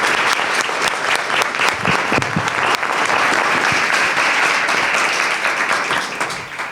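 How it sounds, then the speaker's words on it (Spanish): An audience at a panel discussion on generative AI and authorship applauds the panelists, with dense, steady clapping that fills the room for the whole stretch before tapering slightly at the end. "Primero, un aplauso para acá a los panelistas."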